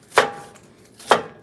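Two sharp knife chops on a cutting board while chili is prepared, each a crisp close strike, the second coming about a second after the first, with quiet in between.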